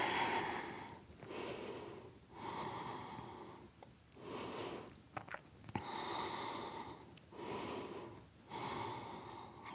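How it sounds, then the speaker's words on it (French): Slow, deep breaths are drawn in and pushed out during a yoga pose in a vinyasa flow session, rising and falling in a steady rhythm of about five cycles, close and breathy, with a couple of small clicks between. "La main droite maintient la tête et on prend 2 respirations."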